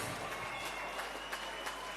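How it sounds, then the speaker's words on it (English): Audience applause for the fighters at a Muay Thai fight night, a faint, steady wash of clapping heard from a distance over constant hall noise. "Round of applause for both of our fighters."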